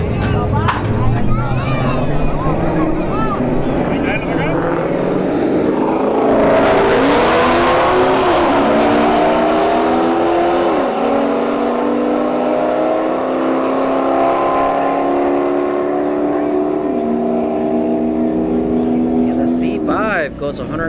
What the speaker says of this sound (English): Alright, we have a C5 Corvette in the right lane. We have, what is this? A Charger